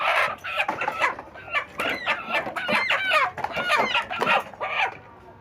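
Chickens at a market poultry scale clucking and squawking in quick, busy bursts, close and loud, with brief crowing-like calls mixed in.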